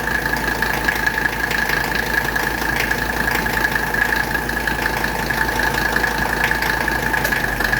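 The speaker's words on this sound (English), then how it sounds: "we're going to hear the AC compressor kick on." Engine of a 1985 wagon idling steadily while the air conditioning system is charged with refrigerant, a constant mid-pitched hum with a persistent tonal whine, near and even, with no distinct compressor engagement standing out.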